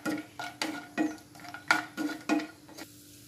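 A spoon stirs nuts frying in ghee in a pan, for aval payasam. Regular scraping strokes about three times a second are joined by light clinks against the pan, close and moderately quiet, with no talking.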